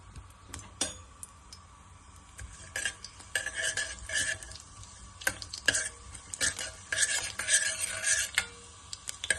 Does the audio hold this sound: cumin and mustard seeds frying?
yes